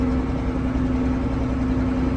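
A Case IH 2594 tractor engine idles close by, a loud, steady diesel drone with a continuous hum that holds unchanged from start to finish.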